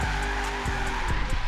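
Tires squealing as a car drifts through a slow 360 in a drifting game, a sustained screech over a steady engine drone, with rhythmic periodic pulses as the car rotates.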